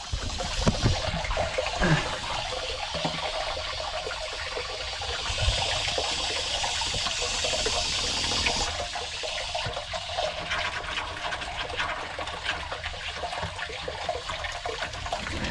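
Water gushes and trickles steadily into a large tire trough at a bison ranch, a loud continuous rushing flow with shifting splashy texture and no talking.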